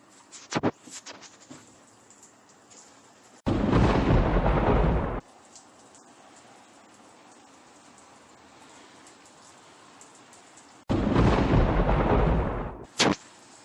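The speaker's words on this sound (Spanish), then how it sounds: "Aquí lloviendo todos los días," Rain falls outdoors on a cold day in the United States, a steady hiss with two long, loud surges of heavier downpour or gusts and a few sharp knocks near the start, with no talking.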